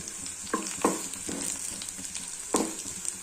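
Garlic frying in a pan for a beetroot curry, a steady close sizzle broken by a few louder crackling bursts from stirring, with no talking.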